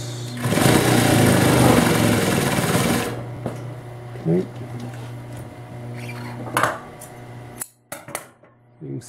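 Singer 196K5 heavy straight-stitch sewing machine with reverse running through four layers of fabric, a loud steady mechanical whir for about three seconds, then stopping, leaving faint handling clicks and rustles.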